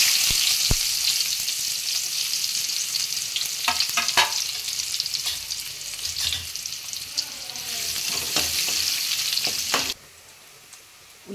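Onions sizzling in a pan for a goat tripe fry, a loud steady hiss up close with occasional clinks of stirring, until the sizzle drops away abruptly near the end.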